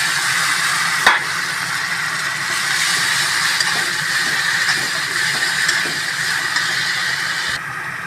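Ground spice pastes of chilli, cumin and onion hitting hot oil in a pan, giving a steady, close sizzle and hiss that carries on evenly with a few light clinks and stirs, no talking.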